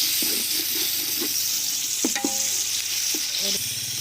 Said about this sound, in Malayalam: അപ്പം കാഷ്യൂ ആഡ് ചെയ്ത് അതുകൂടെ സോട്ടേ ചെയ്യണം